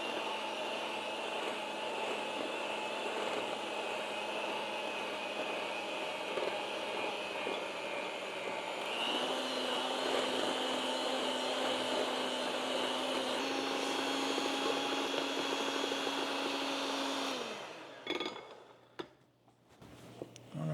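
An electric mixer churns almond biscotti dough in a steady, whirring drone that shifts up in pitch partway through, runs continuously near and fairly loud, then cuts off with a few clunks at the end.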